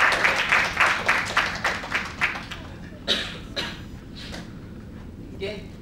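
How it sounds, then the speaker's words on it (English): A round of applause from a group at a Roses of Peace event at SMU, about a dozen loose claps that fade out over a few seconds, with speech sounds under it. "Round of applause for you, please."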